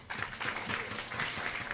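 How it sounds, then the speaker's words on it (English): Brief, moderately faint round of applause from an audience at an entrepreneurship festival pitching event, a steady patter of many hands with no speech in it. "with a round of applause"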